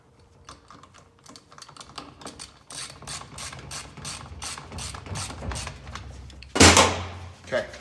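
Ratchet tightening bolts on a transmission cover during XP Turbo transmission repair work, giving rapid close clicking bursts with mechanical clatter and a louder clank near the end.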